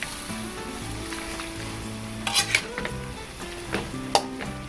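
Beef tongue simmering with a splash of vinegar is stirred in a frying pan for adobo, with a continuous sizzle and several sharp spoon-against-pan knocks and scrapes close by.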